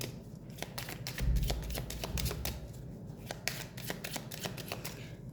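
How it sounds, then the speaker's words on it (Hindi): Tarot cards being shuffled by hand, a steady run of crisp riffling flicks and soft slaps repeating throughout, close and moderately loud with a low background hum and no talking. "जब मैं कार्ड शफल कर रही हूँ"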